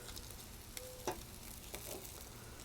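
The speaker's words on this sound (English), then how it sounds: "So as we get that bread toasted today, I'm gonna start with just a little bit of butter on there." Bread toasts in a little butter on a griddle for a grilled cheese sandwich, a soft, steady sizzle with a few faint ticks and taps, quiet and alone.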